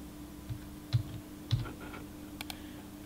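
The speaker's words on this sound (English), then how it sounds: "type in the confirmation code" Several soft key presses on a computer keyboard, entering a confirmation code while powering off a storage control enclosure in a server setting; a few sparse, separated clicks over a steady low equipment hum.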